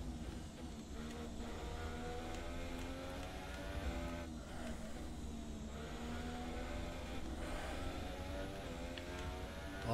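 A Formula 1 car engine in F1 2017 drones steadily at high revs, with the pitch dipping and rising as the throttle lifts and comes back on. It plays alone, fairly quiet and constant.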